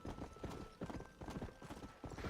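Horse hooves clip-clop in Red Dead Redemption: Undead Nightmare, a steady quick rhythm of quiet hoofbeats at a gallop, faint and without talk.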